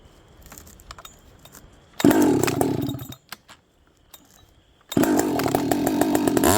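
A chainsaw fitted with a long bar revs hard in two loud, close bursts during a kickback demonstration, idling and cutting out quietly between them.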